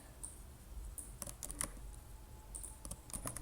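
Fast, light clicking of keys on a computer keyboard as code is typed, quiet and near, in short irregular bursts with a pause in the middle.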